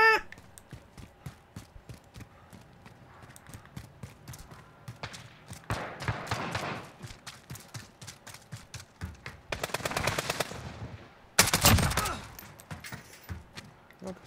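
Rapid bursts of video game gunfire from a multiplayer shooter, coming in separate rattling volleys with short pauses between them, moderately loud with no talk over them.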